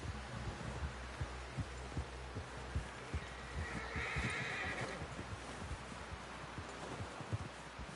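A horse in Red Dead Redemption 2 whinnies and snorts while hooves clop and thud in an irregular rhythm, close and fairly loud, over a steady low rumble of game ambience.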